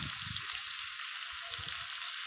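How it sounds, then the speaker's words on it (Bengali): Mutton pieces being stir-fried for Golbari-style kosha mangsho with green chillies in a pan give a steady close sizzle with low scraping stirs, no talk. "ভালো করে মাংসটাকে কষিয়ে নেবো"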